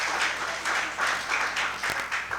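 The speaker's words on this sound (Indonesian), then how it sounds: "Tepuk tangan buat Yesus," Applause from a church congregation during a service, a steady wash of clapping with rhythmic swells throughout, moderately loud and without speech over it.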